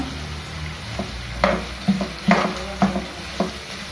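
Onions go into a hot pan after potatoes for dill-leaf upma, sizzling steadily while a spoon stirs and scrapes in several sharp clinks and knocks, close up.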